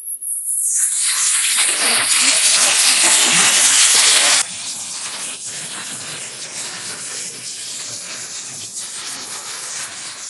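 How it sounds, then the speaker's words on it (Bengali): Marinated fish hitting hot oil in a pan on a stove gives a loud, close, sizzling hiss that bursts up at once and stays intense, then drops to a steadier, softer frying crackle partway through. "এখানে আমি চুলায় তেল দিয়ে দিলাম, আর এই যে আধা ঘন্টা আগে যে ম্যারিনেট করে মাছটা রেখেছিলাম সেটাও দিয়ে দিলাম।"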